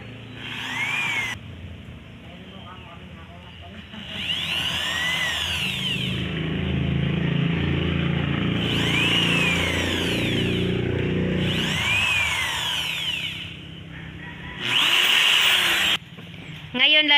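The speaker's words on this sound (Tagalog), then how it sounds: "Ang pinantandaan niya yung barena." An electric drill whirs in several bursts of a few seconds each, separated by short pauses, with a steady motor hum underneath.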